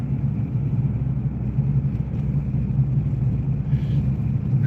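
A car driving along a bumpy road, its engine rumbling low and steady with constant road noise from inside the cabin, no talking.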